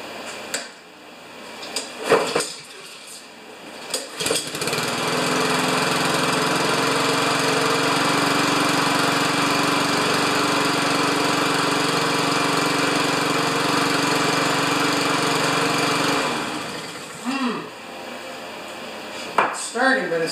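Craftsman lawn mower with a Honda engine, running rough with a sticky manual choke: it starts and then holds a loud, steady engine roar for about ten seconds before cutting out, with clunks and brief handling noises around it.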